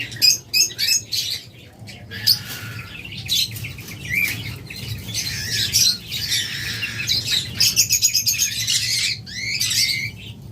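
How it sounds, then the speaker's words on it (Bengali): A pair of opaline lovebirds chirps close by, quick bursts of sharp twittering calls coming in clusters over a low background murmur. "চমৎকার রানিং অপালাইন লাভবার্ড।"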